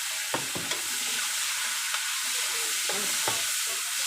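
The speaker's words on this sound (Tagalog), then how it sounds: "palutuin muna natin yung kamatis natin bago natin ilagay para magkulay yung ating hipon na lulutuin" Chopped tomatoes fry with onion in a pan for a sautéed shrimp dish, giving a steady close sizzle broken by a few scraping stirs, with no talk.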